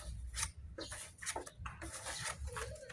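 Close, scratchy rasping of 240-grit sandpaper rubbed back and forth over body filler in uneven strokes, fairly quiet, with no talking.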